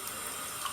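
Water pours steadily onto a Samsung Galaxy S4 phone, including its headphone jack, a continuous hissing splash like a running tap, close and even throughout the brief moment, with no speech.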